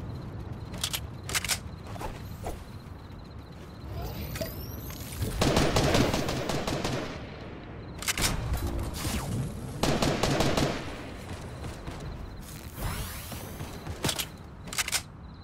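Rapid gunfire in the Fortnite video game, bursts of automatic shots and single cracks coming in clusters with short gaps, some loud and close, others more distant, with no talking over them.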